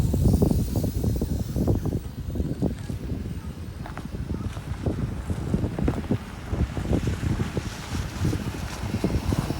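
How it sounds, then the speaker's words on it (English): Strong wind roars and buffets the microphone outdoors during a Sky Viper S1750 stunt drone flight, a steady loud rush with gusty low-frequency thumps throughout and no talking. "That wind was trying to blow me over to that tree, yo. It's a blowing."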